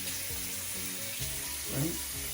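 Water runs steadily from a tap, a constant broadband hiss throughout, with a person speaking softly over it.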